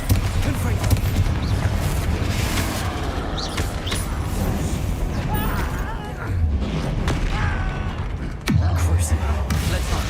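Bombarda and Confringo spell blasts in the Hogwarts Legacy video game boom and crackle loudly in a dense, near-continuous barrage, with creaking effects and voices mixed in.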